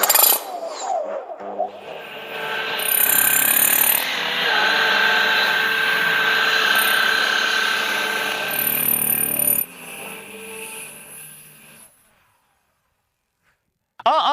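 A loud hammer drill grinds and rattles continuously for several seconds boring into soil, cutting out abruptly before a stretch of near silence.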